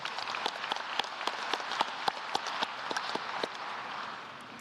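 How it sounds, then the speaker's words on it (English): An audience at a high school graduation ceremony applauds, a sustained wash of clapping from many hands with sharper individual claps popping through, fading slightly near the end. "give yourselves a round of applause because you deserve it"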